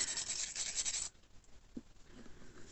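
Small manual files rasp against a Blythe doll being customised, a steady broadband scraping for about a second that then drops to faint, intermittent rubbing with a brief soft tap.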